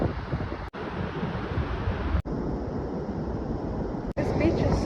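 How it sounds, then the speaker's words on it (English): Surf rolling in at Seven Mile Beach, Byron Bay, a steady broadband wash mixed with heavy wind buffeting on the microphone, near and loud, with a few abrupt cuts. "This beach is so gorgeous."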